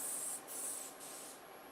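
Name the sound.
spraying Crisco pan release into a pan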